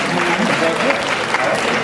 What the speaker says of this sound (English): Let's give them a huge round of applause, everybody